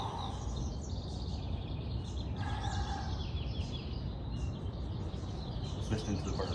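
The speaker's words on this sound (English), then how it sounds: "Just listen to the birds" Birds chirp outdoors, with small high calls repeating through a constant low background rumble, fairly faint.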